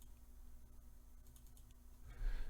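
A computer keyboard typing text into title-design software: a few soft, scattered key clicks, quiet and close, followed by a short rustling burst near the end.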